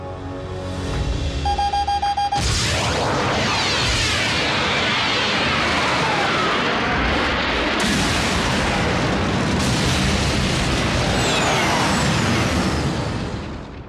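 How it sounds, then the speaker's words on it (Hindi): A huge cartoon explosion of three tons of energon bursts after a brief electronic beeping tone, then a long loud roaring blast with crackling debris and secondary booms rolling on for several seconds. "जब 3 टन का एनर्जॉन फटता है तो उसकी आवाज कैसी होती है"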